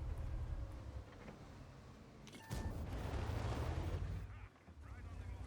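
A sharp, booming tank gunshot in a video game rings out once amid a low rumbling background, followed by a sustained roar.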